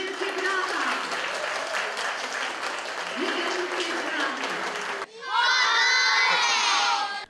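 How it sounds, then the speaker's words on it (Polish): Crowd of children in a town hall auditorium clapping, shouting and cheering loudly, continuous and energetic, with a sharp cut to an even louder burst of high-pitched cheering near the end. "Wielkie brawa!"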